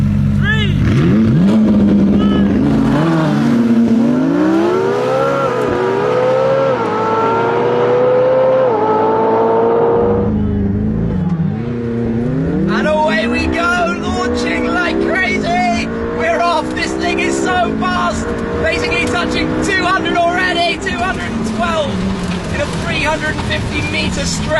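Car making a drag-race launch with launch control over a 350-meter stretch: the engine revs hard and climbs through several gears, drops off, then a noisy braking stretch follows as a person talks excitedly over it.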